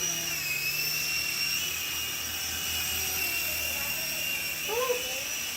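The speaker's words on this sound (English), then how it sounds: "So this is an indoor helicopter only." A small indoor RC toy helicopter whines with a steady high-pitched motor and rotor hum that holds throughout, with a faint voice breaking in briefly near the end.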